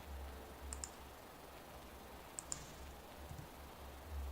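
Computer keys clicked while working in AutoCAD, a few faint, sharp taps in two brief pairs over a quiet background hum, with no talking.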